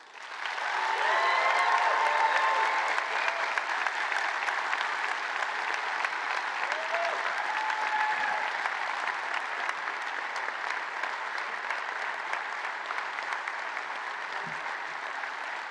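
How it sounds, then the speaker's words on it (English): Loud, sustained applause from graduates, families and friends at a university sport school graduation ceremony, a dense wash of clapping that swells in the first seconds then continues steadily, with occasional faint whoops. "graduates, please show your appreciation by a loud applause"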